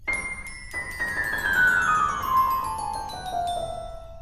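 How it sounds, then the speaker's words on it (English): A bright, tinkling magical chime from the Little Einsteins wish box, a sparkling tone gliding steadily downward over several seconds with shimmering overtones, heard alone and fairly clear. "Remember, a wish box sounds like this."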